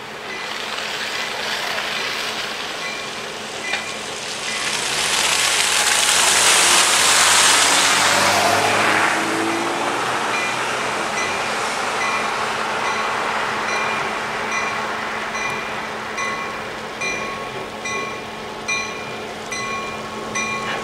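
A NYS&W freight train rumbles past a road crossing nearby, building to a loud roar in the middle and fading, with steady mechanical clatter throughout.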